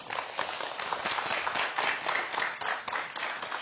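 Studio audience applause welcomes a guest on a Korean television talk show, a moderate, steady patter of many hands clapping, heard fairly softly and without speech over it.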